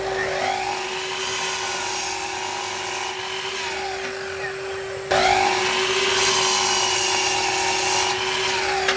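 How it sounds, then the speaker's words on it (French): A miter saw cutting old wooden table legs to equal length, its motor whining steadily through two cuts, with a brief change in pitch and loudness midway. "on va retailler tout ça à la scie à onglet pour avoir 4 pieds de taille identique"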